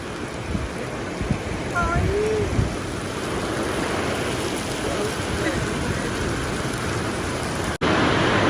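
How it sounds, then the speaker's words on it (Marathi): A sudden heavy downpour roars steadily throughout as a dense, even wash of rain, close and loud, with a brief voice-like tone early on and a short dropout near the end. "अचानक पाऊस आलेला आहे"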